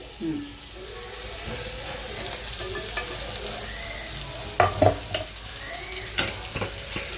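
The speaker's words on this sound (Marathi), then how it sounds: "अशी परतून घ्यायची छान" Vegetables stir-fried in a pan while being tossed for a vegetable dish, giving a steady sizzle with scraping and stirring clatter and a few louder clanks of the spoon against the pan, with no talk.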